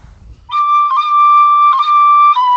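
A tin whistle plays a few sustained, shrill notes with small pitch steps between them. The playing is loud and close, and it starts after a brief low rumble.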